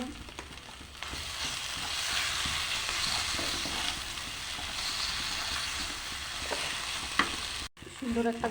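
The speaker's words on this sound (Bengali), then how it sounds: "বাটা হয়ে গেছে, এবার দিয়ে দেবো কড়াইতে।" A ground paste of burnt onion, garlic and chilli fries in a wok with a constant hissing sizzle, a sharp clatter of stirring near the end, then a brief dip before the sizzle returns.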